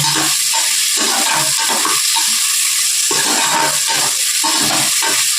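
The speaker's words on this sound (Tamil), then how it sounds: "இப்போ வந்து ரெண்டு பெரிய வெங்காயம் ரெண்டு மூணு பச்சை மிளகா போட்டிருக்கேன்" Two large onions and a few green chillies sautéing in a pan for ghee rice, a loud continuous sizzle broken by rhythmic stirring scrapes close by.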